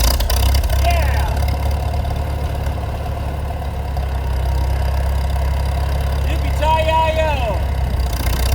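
A Farmall 400 tractor engine runs at a steady, low idle, a constant chugging rumble close by, while people speak briefly over it near the start and again near the end.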